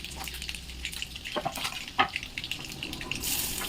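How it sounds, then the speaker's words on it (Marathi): Cumin, curry leaves and garlic cloves sautéing in a hot pan, with a soft steady sizzle broken by scattered clinks and stirring scrapes, fairly quiet and close. "थोडेसे जिरं, कढीपत्ता, 5-7 लसणाच्या पाकळ्या, हे छान परतून घेऊया."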